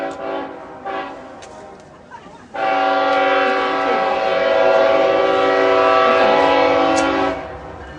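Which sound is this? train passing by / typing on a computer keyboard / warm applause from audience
train passing by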